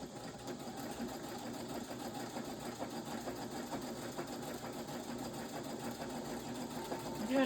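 A sewing machine runs a decorative fancy stitch in a steady, even mechanical whir that continues for the whole stretch at moderate loudness, with a slight rise at the end.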